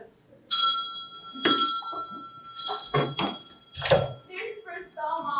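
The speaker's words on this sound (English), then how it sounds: "There's the first bell, Mom." A school bell rings loudly in several bursts, the first bell of a morning in a small town, with voices talking between and over the rings.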